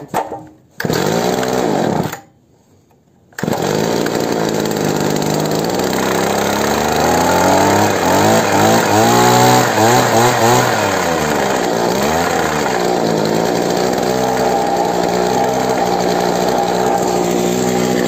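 An old two-stroke engine on a roughly 40-year-old Iseki hedge trimmer with worn carburettor membranes. It sputters briefly, cuts out, then restarts and runs loud and close, revving up and down before settling into a steady buzzing idle.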